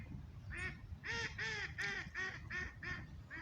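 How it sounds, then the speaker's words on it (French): A group of ducks quacking in a rhythmic series of about seven loud, nasal calls near the waterside, with faint lapping water beneath. "Voilà, les canards."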